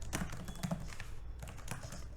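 Fingers tap quickly on a computer keyboard while entering VBA macro code in Excel, a close run of light, irregular clicks and key presses with no talking.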